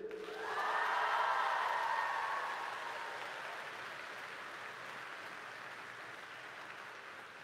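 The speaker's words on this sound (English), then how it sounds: "can we give our peers a big round of applause for Madrid" An audience at a campus welcome event breaks into warm applause, a swell of clapping that rises quickly, peaks, then slowly fades over several seconds with no talk on top.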